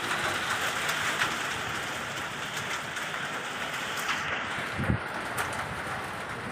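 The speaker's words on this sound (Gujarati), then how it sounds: "વરસાદનો અવાજ તો સંભળાતો છે કારણ કે આપણો પતરા છે લોખંડના એટલે અવાજ આવતો છે" Steady rain drums on an iron sheet roof, a dense continuous hiss with occasional louder drops, constant throughout and no voices.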